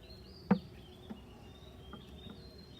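Honeybees hum faintly around an open hive during a spring inspection, a soft steady buzz under quiet surroundings with a single sharp knock near the start and a few faint ticks later.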